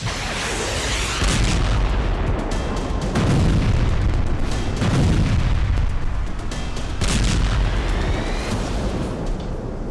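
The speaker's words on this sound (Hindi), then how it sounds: "हिजबुल्लाह के रॉकेट और मिसाइल हमले लगातार जारी हैं और सीमा पर इजरायली सैन्य चौकियों को ध्वस्त कर रहा है।" Heavy booms and rumbling blasts from rocket and missile attacks with artillery fire on a border between Hezbollah and Israeli military posts, continuous loud thuds and explosions with no pause across the whole stretch.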